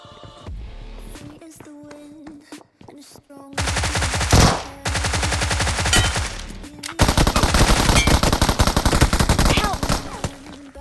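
A suppressed Tommy gun fires in BGMI / PUBG Mobile, with rapid automatic bursts of close, loud shots in several long strings separated by brief pauses and a few single shots at the start.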